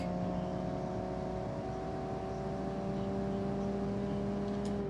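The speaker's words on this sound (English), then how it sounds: "Fast shifting this one is awesome because you can get up to insane speeds pretty quick." A car engine in BeamNG.Drive drones steadily with fast shifting at speed, a sustained tonal hum with a slight pitch change partway through, loud and continuous with no voices.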